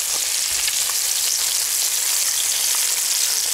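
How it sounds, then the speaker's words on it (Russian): Steady, loud sizzling of carp frying in hot oil in a pan over medium heat, a dense continuous hiss with faint pops throughout. "Желательно жарить ее на среднем огне."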